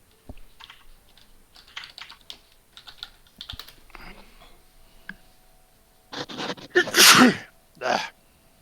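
A loud, explosive sneeze bursts out near the end, following a stretch of soft keyboard typing and faint clicks.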